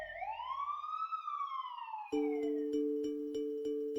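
An ambulance siren wails alone in a long rising-then-falling sweep, then switches abruptly to a loud, rapid two-tone yelp that repeats steadily and close by.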